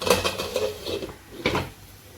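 A lid goes onto a pan of amaranth fry with a few light metallic clanks and taps, two clear knocks standing out among softer handling noises, close by and brief.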